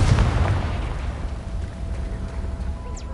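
A Confringo blasting spell going off in Hogwarts Legacy, a loud low booming burst at the start that rumbles and decays into a steady game ambience.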